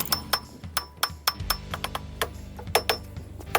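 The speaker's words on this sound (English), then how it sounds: "Dead blow hammer worked." Sharp, separate metallic strikes of a dead blow hammer on a rotor seized to a hub ring out one after another in an uneven rhythm, close by, each hit leaving a brief clank over a low mechanical hum.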